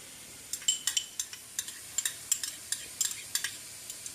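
Garlic, Italian seasoning and parsley flakes being added to a bowl while preparing kid-friendly lasagna, heard as a run of light, close clinks and taps at a steady, uneven rhythm with no talking.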